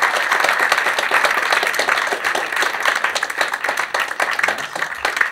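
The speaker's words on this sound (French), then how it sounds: "On peut les applaudir fort." A live audience claps in sustained, dense applause that holds steady and loud throughout, with no speech over it.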